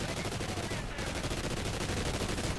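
Sustained rapid automatic gunfire in Call of Duty Ghosts Extinction, dense, evenly spaced shots rattling without pause across the whole stretch, loud and close.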